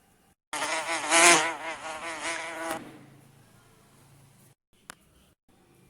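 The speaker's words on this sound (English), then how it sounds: "Honeybee, buzz." A honeybee buzzes loudly and close for about two seconds with a steady, wavering drone, then fades into faint background quiet.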